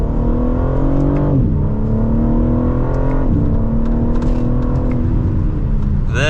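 A 2025 BMW M3 Competition sedan pulls hard from second gear, its engine note climbing loud and close through two upshifts, with a brief dip at each gear change.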